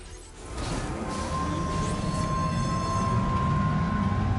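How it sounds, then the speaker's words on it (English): A monorail train in the game Death Stranding 2 runs along its rails with a steady rumbling roll and a sustained metallic whine, heard up close and alone with no talking. "Our first time on the monorail, ladies and gentlemen."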